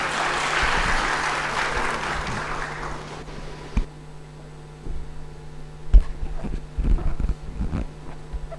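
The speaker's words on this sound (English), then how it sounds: "please give her a round of applause" Forum audience applauds a speaker at a conference hall, a broad wash of many hands clapping for about three seconds that dies away over a steady electrical hum, followed by scattered bumps and footsteps.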